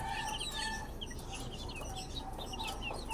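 Hens cluck and murmur continuously in a busy coop, with small birds chirping in the background and no one talking.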